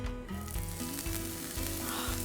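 Loud, crackling sizzle of scallions frying in hot oil, with steady spattering and a few soft stirring knocks, no voices.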